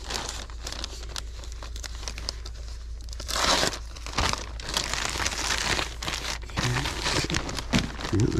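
A sheet of packing paper is crumpled close up while packing an eBay order, a steady crinkling rustle that swells louder partway through with no talk.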